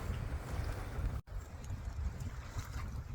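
A sailboat moving through water on a first day of sailing: steady low wash and rushing wind noise fill the whole stretch, with one brief dropout near the middle and no talking.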